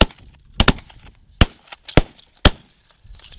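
Sharp shotgun blasts ring out while duck hunting for mallards, about four loud, separate reports spaced roughly half a second apart, with a faint bird call in the quiet between them.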